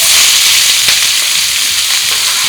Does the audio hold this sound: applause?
no